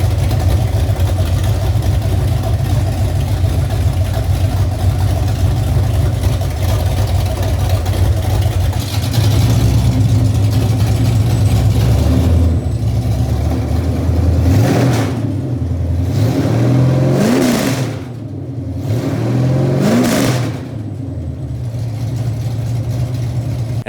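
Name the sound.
Ford Mach 1 Mustang engine running and revving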